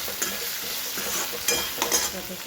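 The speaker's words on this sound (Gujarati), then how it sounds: "સરસ મિક્સ કરી લઈએ." Green chilies and potato slices sizzle in a frying pan while a spoon stirs them, with a steady hiss and a few scraping strokes against the pan.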